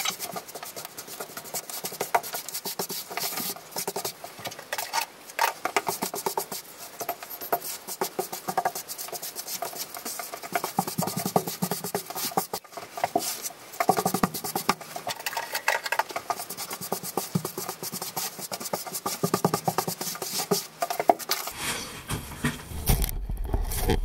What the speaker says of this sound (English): So you want to, fill your joint, but also as you're going along, scrape off as much as possible.